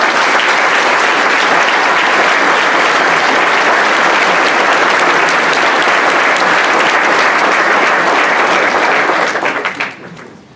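An audience at a law enforcement academy gathering welcomes Chief Glenn Sapp with loud, sustained applause filling the room for about ten seconds before tapering off into a few scattered claps.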